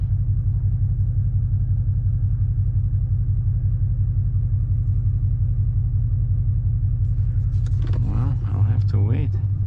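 A car engine runs steadily on Wildlife Loop Road in Custer State Park, South Dakota, a close, even low rumble throughout, with someone speaking over it near the end.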